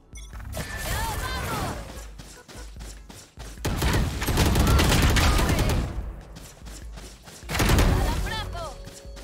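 Rapid bursts of Valorant ultimate-ability gunfire with crashes and impacts, coming in three loud waves separated by short lulls.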